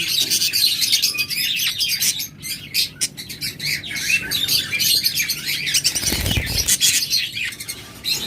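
Caged pet birds for sale, lovebirds, budgerigars, Java sparrows, cockatiels and finches, chirp and tweet in a dense, continuous chorus, with a short flutter of wings partway through.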